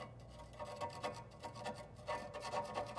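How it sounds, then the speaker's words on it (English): A flathead screwdriver scrapes loose paint and flaking rust from a vehicle's undercarriage in a series of short, gritty strokes, close up and fairly quiet, with brief pauses between bursts and no talk. "I'll come in with a flathead screwdriver, or if you have a chisel with a wide head to it. And I'll get all the loose paint"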